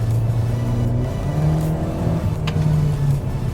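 A 2022 Mitsubishi Eclipse Cross with a CVT accelerating above 4,000 RPM, its engine holding a loud, steady droning whir with slight pitch shifts, heard from inside the car without any talking.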